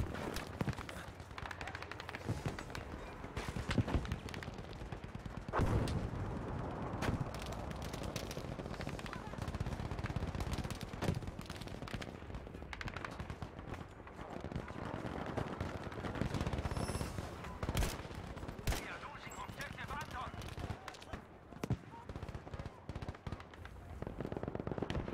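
Dense gunfire in Battlefield V, rapid machine-gun bursts and scattered single shots crackling continuously at mid distance, with occasional voice talk underneath.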